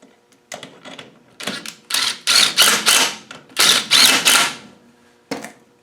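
Bolts on a swivel ball housing being spun down with a ratcheting tool give loud, close runs of rapid clicking in several bursts, separated by short pauses, with no talk.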